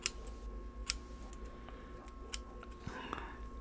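Shears snip through hanging stems of a potted plant, giving two or three sharp, close clicks spaced about a second apart over quiet room tone.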